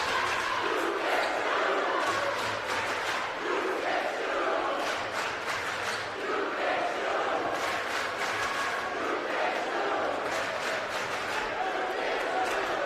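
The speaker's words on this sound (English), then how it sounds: "Lexington crowd is really getting into this." Loud crowd at a Lexington High School varsity basketball home game against Woburn roars and cheers continuously, with shouts and chanting swelling throughout, close and dense.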